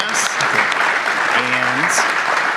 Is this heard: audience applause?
yes